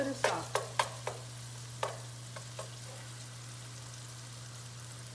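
Pork chops and onions frying in a pan give a quiet, steady sizzle under a low hum, broken by several sharp utensil clicks and scrapes early on, with no talking.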